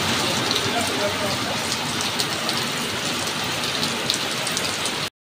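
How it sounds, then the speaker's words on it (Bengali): Heavy rain pours steadily at a house, a dense, even hiss that stays loud and unbroken for about five seconds before cutting off abruptly. "আর বাড়িতে আসার পর বৃষ্টিটা আরও জোরে শুরু হয়ে গেছে।"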